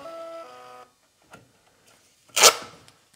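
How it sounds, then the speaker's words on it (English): A small label printer in a shop feeds out a printed label with a short mechanical whir that stops, then a louder burst of tearing or rubbing noise follows shortly after. "I'm gonna hit print label, print now. And there it goes. It's just gonna crank that thing right out."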